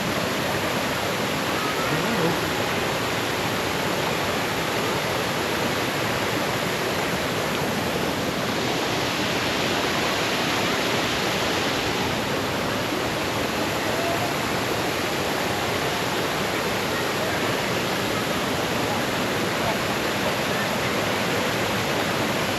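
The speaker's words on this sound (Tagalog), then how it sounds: "Ganda ng falls guys." Steady broadband roar of Anghalo Lubong Nangoloan Falls in San Felipe, Zambales, a constant wash of falling water filling the scene evenly from start to finish, close and loud with no voices.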